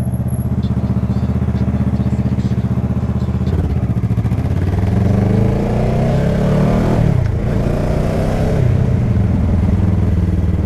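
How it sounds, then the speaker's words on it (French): Motorcycle exhaust heard from inside an Icon Airflite PeaceKeeper helmet while riding, a steady muffled engine drone with a throbbing low pulse and shifting pitch as speed changes, wrapped in continuous wind noise. "Là, mon pot, je l'entends beaucoup moins que d'habitude."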